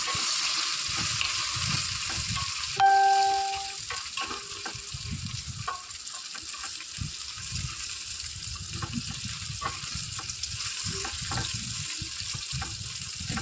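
Gunda (cordia berries) sautéing with turmeric in a pan give a soft steady sizzle, with a stirring clatter and a brief metallic clink early on, no talking.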